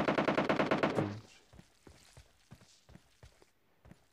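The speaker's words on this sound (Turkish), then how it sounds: "Kırmızı evden sıkıyor herhalde bu." Rapid automatic gunfire in the PUBG Mobile battle royale game, a loud burst of shots in the first second followed by a series of quieter, evenly spaced single reports or footsteps.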